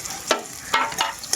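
Spicy koi fish curry stirred slowly in a pan: a soft, continuous sizzle broken by several distinct scraping strokes at a relaxed, uneven pace, close up, with no voices.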